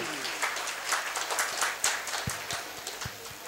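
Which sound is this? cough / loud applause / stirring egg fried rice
loud applause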